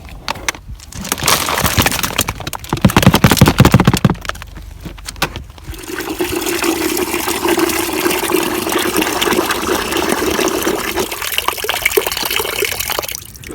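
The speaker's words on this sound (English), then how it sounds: "I always add in a bucket of water just to clean the bucket, and also to add moisture into here" Someone tips food scraps into a compost bin with a few knocks and clatters, then pours a bucket of water in, a steady gushing, splashing stream that runs for several seconds before tapering off.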